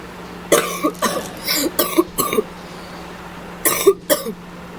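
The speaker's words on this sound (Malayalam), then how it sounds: "ഇപ്പോൾ ഇടയ്ക്ക് ചുമയൊക്കെ കാണും ഗൈസ്, ക്ഷമിക്കുക." A person with a fever coughs close to the microphone: several short, harsh bursts in two clusters, with a quiet pause between them.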